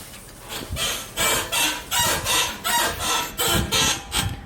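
Rhythmic, repeated creaking squeaks from a Toyota FJ Cruiser cabin, about eight in a row at a steady pace, fairly loud and close.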